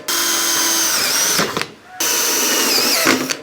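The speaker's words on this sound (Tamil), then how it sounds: "இந்த கிளாம்பை போட்டு நம்ம ஸ்க்ரூ பண்ணிக்கலாம்." A power drill runs in two loud, close bursts while driving screws to fasten a clamp onto a PVC pipe, whining steadily with a brief stop in between.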